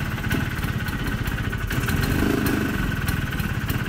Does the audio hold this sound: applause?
no